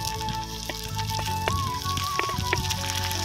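Onions, chillies and taro stolons sizzle and crackle steadily in hot oil in a pan, a close, continuous frying sound with a few light stirring knocks.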